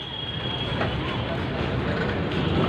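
Kolkata tram number 720 rolls in with a steady, broad, low rumble of wheels on rails that stays loud and close without a break.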